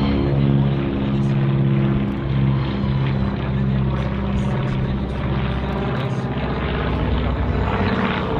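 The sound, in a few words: propeller aircraft flying at air show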